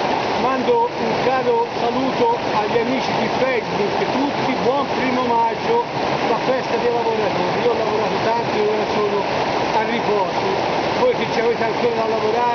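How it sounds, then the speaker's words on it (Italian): Rushing water from a stream or waterfall roars steadily and loudly throughout, a dense continuous wash under someone speaking close by. "c'è il rumore dell'acqua."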